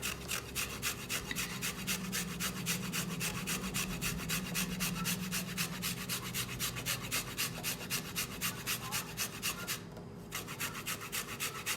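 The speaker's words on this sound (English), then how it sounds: "we're gonna begin the grating of the cassava, and we want the cassava to be fine" Cassava grated by hand on a grater, a steady fast rhythm of close rasping strokes running continuously with no talk, briefly easing near the end.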